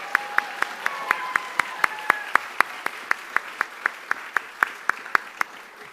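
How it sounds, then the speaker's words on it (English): An audience at a service academy cadets' matriculation ceremony claps for the Glee Club, with sharp claps landing in a steady, evenly spaced rhythm over a faint sustained tone. "Please clap for the Glee Club."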